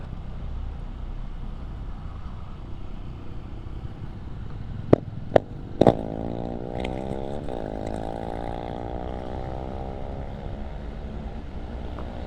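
A motorcycle with a modified exhaust idles roughly, then revs up with a few sharp pops and a rising, raspy exhaust drone.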